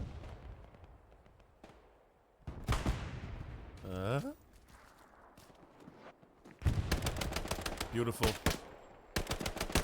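Bursts of grease gun fire in the Hell Let Loose video game, a short rapid burst early on and a long heavy volley toward the end, near and loud, with a brief spoken word between them.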